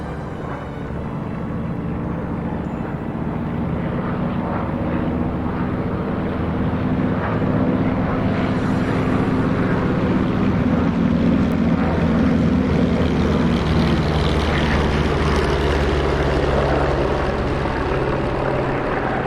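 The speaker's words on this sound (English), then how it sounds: "On the takeoff roll, to your left, the Curtiss SB-2C Helldiver" A Curtiss SB-2C Helldiver, a World War II Navy propeller dive bomber, rolls for takeoff at an air show, its piston engine a steady, loud drone with wind buffeting the microphone, swelling slightly partway through.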